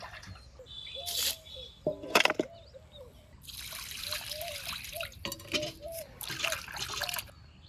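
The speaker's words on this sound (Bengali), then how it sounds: "কয়েকবারে একদম খলবল জলে ধুয়ে নিলাম" Mutton is rinsed several times in water, with close splashing, sloshing and trickling in uneven bursts, while birds chirp faintly in the background.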